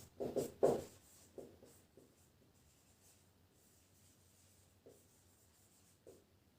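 Pen or marker writing a heading on a board during a physics lesson, a few scratchy strokes clustered at the start, then sparse faint scrapes over quiet room noise.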